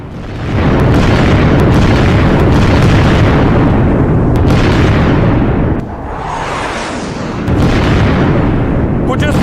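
Loud, continuous rumbling blasts from US military missile strikes on a road, heavy and dense for most of the span with a brief dip before resuming, no voices over it.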